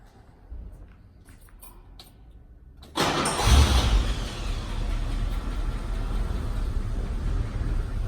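A car fitted with a Capristo exhaust cranks and fires up about three seconds in, settling into a loud, steady idle rumble close by after a quieter lead-in.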